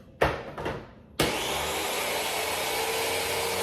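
A kitchen blender grinding garbanzo beans starts with two short pulses, then runs in a loud, steady whir that continues to the end, with no talking.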